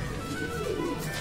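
Punjabi pigeons at a market sale coo faintly in a low murmur, half buried under a busy, noisy background.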